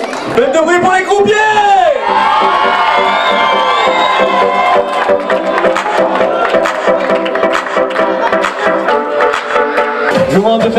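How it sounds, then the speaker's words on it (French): A crowd at a barbecue tour event cheers loudly for the croupiers, with sustained shouting, whoops and cries filling the whole stretch and voices mixed throughout. "Faites de bruit pour les croupiers!"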